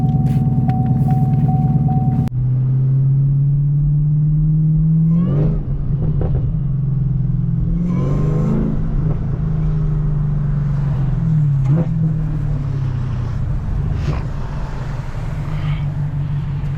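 A manual Camaro ZL1 with a supercharger drives along, its loud steady engine drone carrying a high supercharger whine that rises and falls through several gear changes, with no talking.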